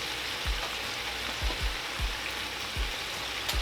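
Cabbage and salt pork fry down in a pan with a steady, close hiss of sizzling and a few soft thumps from stirring at irregular intervals.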